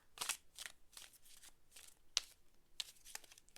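Soft, quiet riffling and flicking of tarot cards being shuffled, in repeated short bursts with an uneven rhythm.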